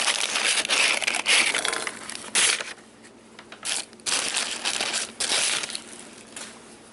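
Paper bags and drive-thru food wrappers are crumpled at home, a dense crackling and crinkling in several bursts with short pauses, close to the microphone and heard alone.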